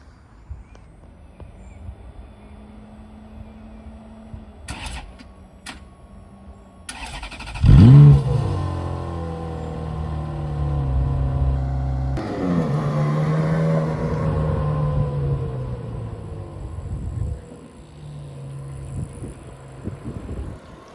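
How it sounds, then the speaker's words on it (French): A Ferrari 430 Scuderia parked at a Deauville car-spotting scene fires up with a loud starter catch and bark, then settles into a throbbing idle broken by blips of revving, heard fairly close and alone without talk. "Pépite le start-up de la 430 Scuderia"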